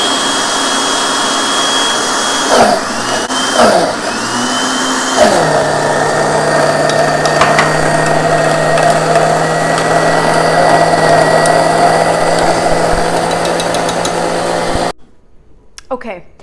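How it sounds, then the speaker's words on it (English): A blender purees canned chickpeas into hummus, its motor whining loudly and steadily, pitch dipping briefly as the load shifts early on, then running evenly for about ten seconds before cutting off abruptly. "so it goes in the blender, lid on nice and tight,"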